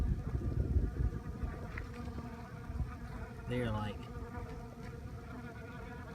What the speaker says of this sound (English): Look at these bees here.